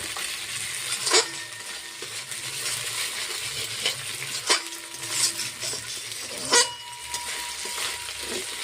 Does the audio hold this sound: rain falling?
no